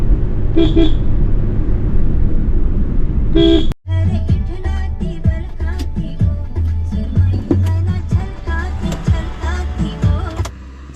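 A car horn beeps in short toots early on, then a longer series of honks and engine noise follows amid road traffic on the Ratnagiri to Mumbai road.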